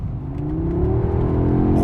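A 2021 Audi S3 Sportback hot hatch engine revving with its sound setting on pronounced, a steady loud growl whose pitch climbs smoothly as the revs rise, heard close with no voices.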